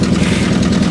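A Japanese excavator's diesel engine idles steadily at close range, a low, even rumble with no voices over it.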